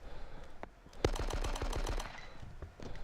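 Automatic gunfire from the 2002 PC game Die Hard: Nakatomi Plaza rattles in a fast burst of about a dozen close, punchy shots, following a single sharper shot and a low game-ambience hum.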